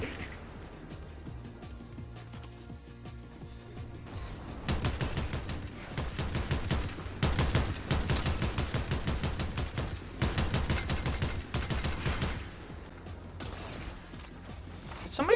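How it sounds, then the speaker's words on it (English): Gunfire in the video game Fortnite, with rapid bursts of shots and volleys rattling off in dense, repeated clusters over steady game background noise, loud and sustained for several seconds before easing off. "Somebody shooting at me?"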